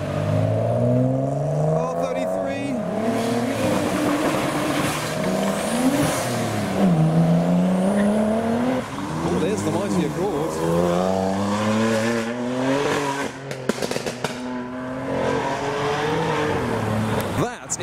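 Several JDM cars, including Subaru, Supra, Evo and Accord models, revving and accelerating away from a car show, with rising and falling engine notes, passing vehicles and occasional tire squeal, loud and close under people talking.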